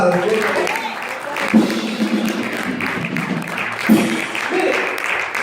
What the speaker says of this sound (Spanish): Den un aplauso al Padre.